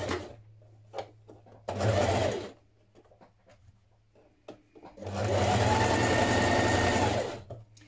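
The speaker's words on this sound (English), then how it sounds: "I'm stitching this on my regular machine" A regular home sewing machine stitches a sweater neckband in two loud, steady bursts, one short and one longer, separated by quieter handling sounds and small clicks.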